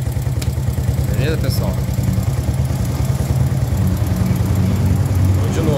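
A Honda Biz 125 motorcycle engine runs steadily close by with a low, even putter and some light mechanical clatter, while someone speaks briefly over it.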